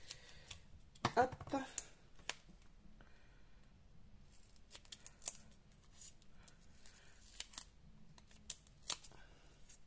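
Soft crisp snips and rustles of scissors cutting sequins on baking paper, irregular and close, with a brief burst of handling noise and a short spoken word.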